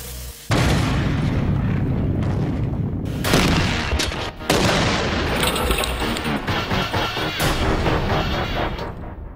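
A cannon fires: a sudden loud boom breaks a quiet moment, followed by another heavy blast and a sustained roaring, crackling rumble that stays loud throughout.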